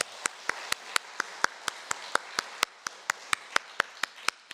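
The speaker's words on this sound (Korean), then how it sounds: "우리 박수로 한번 축복하겠습니다." Clapping from a church congregation during a praise worship service, heard as a sparse, evenly spaced series of sharp individual claps, fairly quiet and alone without talk.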